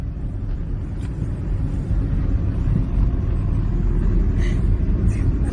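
A car drives along a road on the way to Mandhardevi, its engine and tyre rumble low and continuous from inside the vehicle, steady throughout with no pauses.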